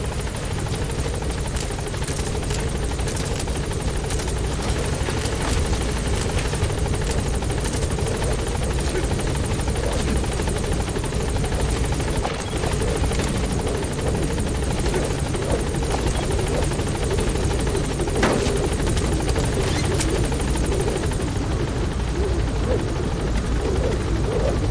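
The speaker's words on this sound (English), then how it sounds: "Support helicopter has arrived." A support helicopter in the video game Metal Gear Solid V hovers with a steady, loud rotor drone and engine whine that stays constant throughout, filling the whole scene without pause.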